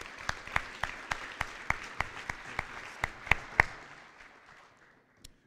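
A small group at a graduation ceremony claps steadily with a few sharp, loud claps standing out, then the applause fades out, ending with one last clap.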